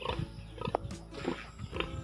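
Pigs grunt and squeal in short bursts close by, several overlapping calls against a busy farmyard background.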